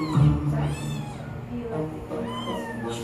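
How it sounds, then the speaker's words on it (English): A kitten cries with repeated high, wavering mews, close and insistent, over a soft low background. "And Mom Katjana isn't a fan of crying kittens."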